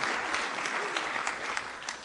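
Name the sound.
audience applause at the White House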